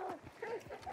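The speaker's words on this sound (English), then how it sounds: "The dogs, yeah. Right here." Dogs bark in a retro remastered video game, a quick burst of yips and barks lasting about a second at moderate volume with faint talk underneath.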